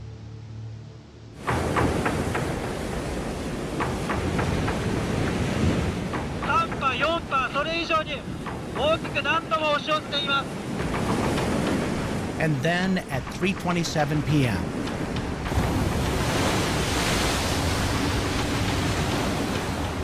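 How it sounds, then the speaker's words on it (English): A tsunami's giant waves surge and crash over a seawall in a broad, roaring wash of water and wind that stays loud throughout, with someone speaking briefly at the start. "the first of 7 giant waves crashes over the seawall"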